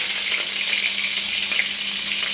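Chopped onion and green chillies sizzling in a little oil in a pan, a steady close hiss of frying with no voices.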